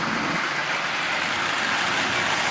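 A Marx double reduction motor running inside a toy locomotive with a Lionel 1062 shell, giving a steady, continuous whirring hum at even loudness with no breaks.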